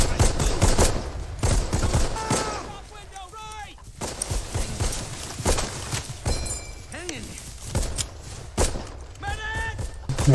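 World War II combat gunfire from a Band of Brothers episode: continuous rifle and machine-gun shots crackle throughout, close and loud, under shouted soldier voices.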